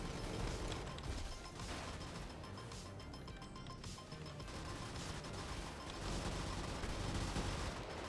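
Heavy gunfire in the mech combat video game Brigador, a dense, continuous barrage of shots and mechanical clatter that stays loud for the whole eight seconds with no talk.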